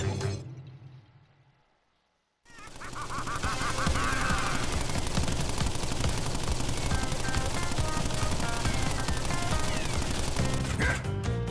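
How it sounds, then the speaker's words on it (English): Rapid Tommy gun fire from the boss Pinstripe Potoroo in the PS4 Crash Bandicoot, a sustained loud stream of shots mixed with game music and crash effects after a brief quiet fade at the start. "so his thing is that he has a Tommy gun, Shay."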